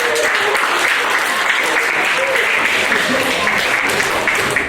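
Audience at a post-prom hypnotist show breaks into sustained loud applause, a dense, even wash of clapping filling the room from start to finish.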